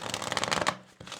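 A deck of oracle cards is riffled in one rapid flurry of fluttering snaps lasting under a second, then stops, with a soft knock afterward and no talking.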